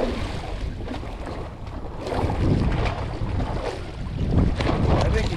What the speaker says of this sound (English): Chase him with the boat. Turn the engines on.